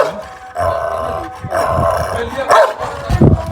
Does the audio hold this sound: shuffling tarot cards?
no